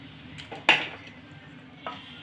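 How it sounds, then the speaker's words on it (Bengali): A spoon stirs bay leaf and dried red chilli in hot oil in a pan, a brief scrape and clack with a soft sizzle underneath, close and quiet. "একটু নেড়ে নেব।"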